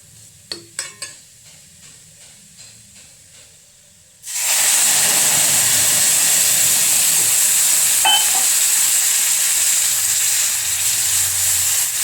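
A few light clinks, then a sudden loud, continuous hiss and sizzle as water hits a hot pan, sustained steadily to the end.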